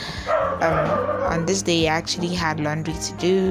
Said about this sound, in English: Please pardon my dogs, they get fussy at times.